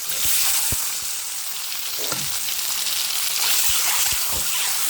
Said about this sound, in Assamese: ডিমকেইটা এনেকৈ ভাজি লওঁ।